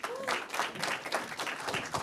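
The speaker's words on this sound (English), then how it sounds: "Let's give a big round of applause for Envy." An audience applauds a startup founder taking the stage at an AI gathering at Google in New York City, with dense, steady clapping filling the room and a few faint voices mixed in.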